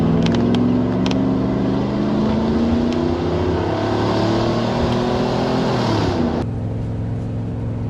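A Range Rover P38A with the 4.0 engine accelerates hard, its engine note climbing steadily before the automatic gearbox kicks down and the pitch drops, all heard from inside under steady road noise.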